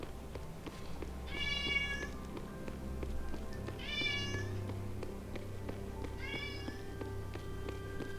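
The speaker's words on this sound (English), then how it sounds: "Oh, my poor cat needs help." Three bursts of a cartoonish video-game cat meowing from Disney Dreamlight Valley, each a rising, tonal meow, spaced a few seconds apart over a steady musical game background with no talking.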